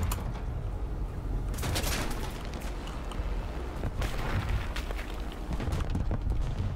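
Bombs exploding in the War Thunder tank game, with deep rumbling booms around two and four seconds over a constant roar of engine and battle noise.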